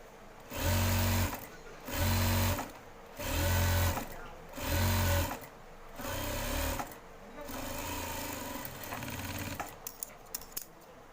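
Sewing machine stitching a shirt collar band: four loud, close bursts of rapid mechanical running separated by short pauses, then a quieter steady whir and small clicks as it slows.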